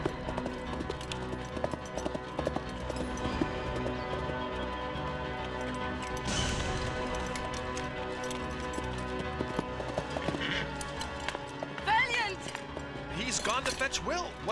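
Horse hooves clip-clop in a quick, uneven rhythm beneath a dense bed of music and voices in an animated cartoon.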